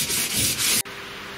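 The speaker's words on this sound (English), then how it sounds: "emery paper to be able to do this by hand" Emery paper rubbed by hand across a car body panel in a tight spot before priming, a steady close rasping scrape in long strokes that stops abruptly, leaving a quiet hiss.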